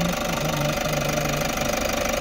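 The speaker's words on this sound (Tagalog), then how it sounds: "sobrang ingay ng makina" A Toyota Commuter van's 1KD diesel engine, with a low-power fault and EGR flow trouble codes, drones loudly and steadily while cruising at around 80 to 90, a thick continuous rumble with a faint tonal whine, no talk.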